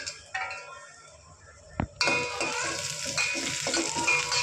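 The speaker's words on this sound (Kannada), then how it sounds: "ಇದರಲ್ಲಿ ಗೋಡಂಬಿ ಮತ್ತು ಎರಡು ಥರ ದ್ರಾಕ್ಷಿನ ಫ್ರೈ ಮಾಡ್ಕೊತೀನಿ" Cashews and raisins drop into hot ghee in a pan, a soft knock followed by a sudden bright sizzle that keeps crackling steadily to the end.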